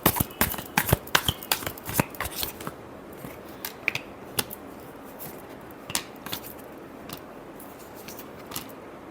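Tarot cards shuffled by hand in a close, dense burst of crisp riffling clicks that thins into scattered snaps and slides, with no talking.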